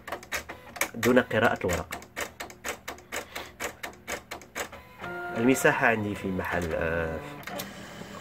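A Silhouette Cameo 3 cutting machine cuts cardstock in a small shop, giving a rapid series of close mechanical clicks and taps with brief motor whirs while someone speaks over it.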